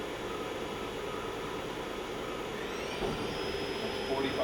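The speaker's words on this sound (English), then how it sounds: "Turning the spindle on." A Sharp SV-6030 CNC vertical machining center spindle spins up, a steady broadband whir with a rising high whine emerging partway through, heard alone at moderate loudness.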